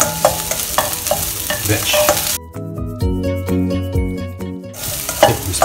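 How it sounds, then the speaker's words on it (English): Mushrooms, onions, garlic and vegetables are stir-fried in a pan while cooking hotplate tofu: a busy sizzle with scraping stirs at the start and end, broken in the middle by a stretch of music. "So fry them around until you get the aroma out from this"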